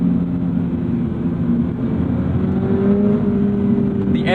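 A car engine drones and climbs steadily in pitch as it revs, a loud, continuous mechanical tone with no talking.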